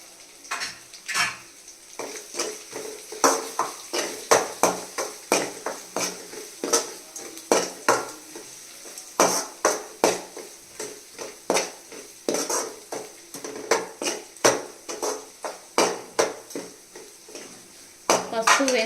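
A metal spoon or spatula stirs spices with turmeric in a cooking pan while preparing mutton keema. It makes steady, rhythmic clinks and scrapes against the pan for about nineteen seconds, close and fairly loud, with no voices.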